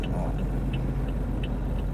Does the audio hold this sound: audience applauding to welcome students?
no